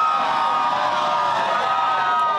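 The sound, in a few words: crowd cheering outside the U.S. Supreme Court after Roe v. Wade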